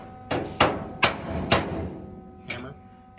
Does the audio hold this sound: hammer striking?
yes